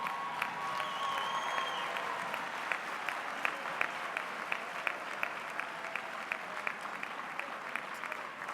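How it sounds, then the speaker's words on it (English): A large audience of students claps at a university graduation ceremony, a steady sustained wash of applause with a few sharper claps standing out and a brief voice early on. "rise and give a round of applause to those people to say thank you"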